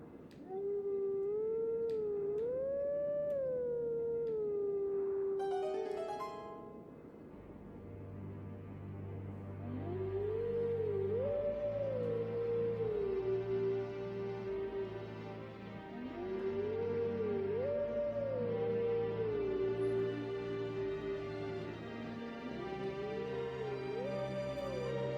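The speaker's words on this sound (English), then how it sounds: "let's go ahead and howl the song again" A wolf howls a melodic tune in the video game Zelda: Twilight Princess HD, long gliding notes rising and falling in phrases, joined after a pause by a second howling voice and a low sustained musical backing.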